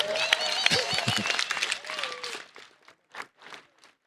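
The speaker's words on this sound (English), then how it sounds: "Clap hands for him, please." A church congregation claps their hands, the clapping mixed with talking voices at first, then thinning out into a few scattered, fading claps.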